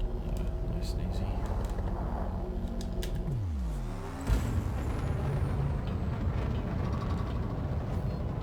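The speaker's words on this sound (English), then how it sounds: "Landing gear deployed." Spaceship landing gear deploying while docking in Elite Dangerous, heard as a falling mechanical whine and a clunk under a steady engine hum, with a soft thud near the end of the motion.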